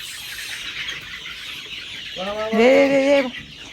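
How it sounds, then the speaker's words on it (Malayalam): Soft background noise, then a nearby chicken lets out a drawn-out, rising cluck-squawk lasting about a second before fading back to quiet. "കോഴി ബാബ അങ്ങോട്ട് വാ"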